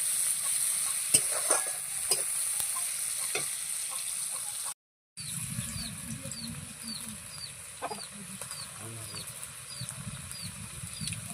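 Sliced onion and green chilies fry in a pan with a steady sizzle and occasional stirring taps. After a short gap the frying continues while chickens cluck and call in the background.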